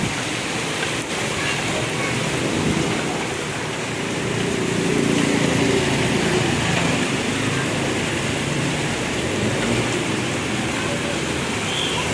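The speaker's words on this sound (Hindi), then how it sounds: "एकदम इतनी तेज़ धुएँधार बारिश की आवाज़ आई और ये आवाज़ देख रहे हैं आप, बहुत तेज़ बारिश हुई।" Heavy torrential rain pours down in a steady, dense roar that fills the whole stretch without pause, loud and close, with no voices heard.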